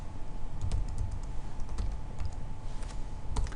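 An order number is typed on a computer keyboard, producing a quick run of fairly quiet, close key clicks with uneven spacing and no voices.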